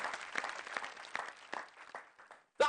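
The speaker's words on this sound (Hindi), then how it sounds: "जरा जोरदार तालियों से हम स्वागत करें" Audience applause at a televised Hindi poetry gathering, a moderate crowd clapping steadily in a room for over two seconds before a brief louder sound at the end.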